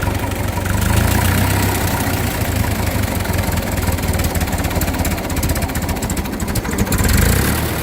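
A 1941 Ford 9N industrial tractor engine idles steadily close by, a continuous low rumbling chug with a faint rattling edge that holds level for the whole stretch, no voices over it.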